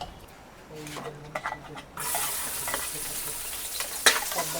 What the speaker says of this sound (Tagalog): Tapos liliit pa to pag ginisa natin.